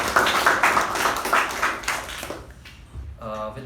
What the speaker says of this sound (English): let us give them a wonderful round of applause.